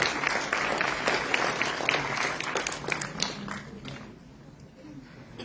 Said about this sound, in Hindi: श्री रणविजय राव जी, जोरदार तालियों से स्वागत करें।